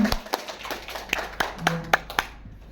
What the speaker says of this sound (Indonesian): sekali lagi Bapak Ibu kita tepuk tangan untuk Maria.